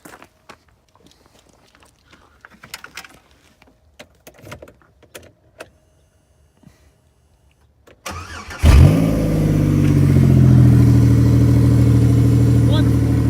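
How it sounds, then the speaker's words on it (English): A 2003 Pontiac Grand Am GT, after a demolition derby, cranks briefly and fires up, then settles into a loud, steady idle close by, following a stretch of quiet shuffling and small handling noises. "The engine is still wonderful. It starts right up. It runs perfectly."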